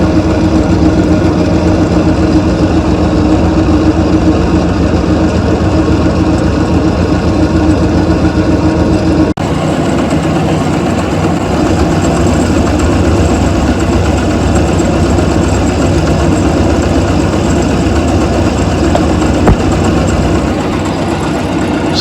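A small metalworking machine takes light 15 thou cuts across a 7/8 inch high steel drive dog, giving a steady loud mechanical hum and drone that holds without a break, heard alone.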